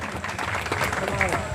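Applause from the audience at a Bharatiya Janata Party gathering, a dense patter of many hands clapping at once, with a voice talking loudly over it.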